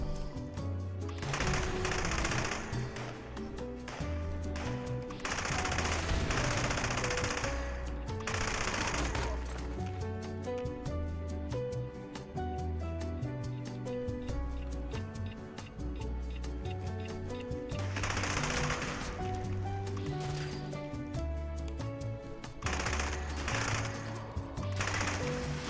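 Sustained rapid gunfire in Fallout 76 rattles steadily through most of the stretch, interrupted by brief gaps, over a continuous in-game backdrop with occasional player talk.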